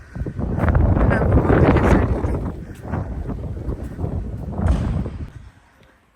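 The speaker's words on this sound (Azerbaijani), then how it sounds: "Hava sərin, biraz da küləklidir." Wind buffets the microphone outdoors on a cool, breezy day. The loud rumbling gusts swell and ease, and a person speaks faintly beneath the noise.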